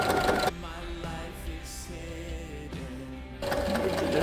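A sewing machine backstitches a dress seam, a close, rapid mechanical chatter of stitching running for about three seconds, with short bursts of handling noise just before and after.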